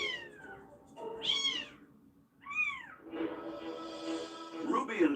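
Black and white domestic short-hair kittens with their mother give repeated high, wavering meows, close and distinct, with a few mews running into one another in a quiet room.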